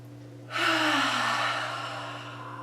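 A single deep breath during an energizing yoga practice, a long airy inhale or exhale swelling in at about half a second and slowly fading, close and clear over a steady low hum.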